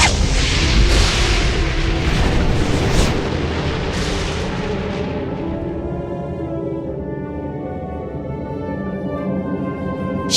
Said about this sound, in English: the evil fairy Maleficent appeared in a flash of green fire